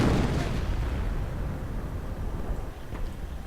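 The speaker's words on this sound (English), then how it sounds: "And more artillery going down." Video game battle with a church under attack by Panthers, Panzer Grenadiers and Hummel artillery, a heavy booming blast that rolls off into a long rumbling decay, with a fainter thump near the end.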